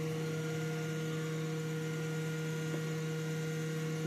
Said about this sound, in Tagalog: Ingay ng blower.